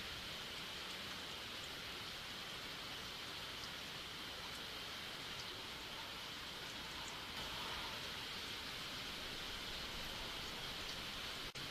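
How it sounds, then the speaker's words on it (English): Video game rain from SeaBed, steady and dense, falling continuously in a soft even hiss with no breaks and no voices. "Suddenly, I could hear the sound of rain."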